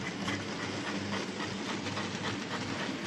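A model B17 steam locomotive in apple green LNER livery runs on a layout with a steady rhythmic chuffing and hiss over a continuous mechanical whir, moderately loud and close, with no talk.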